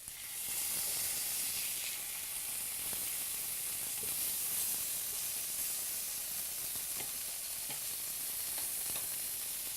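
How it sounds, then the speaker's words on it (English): Steaks searing in a hot pan for sesame beef, a steady bright sizzle and hiss that holds loud and constant throughout, with faint clicks of cooking movement and no talking. "we've seared our steaks"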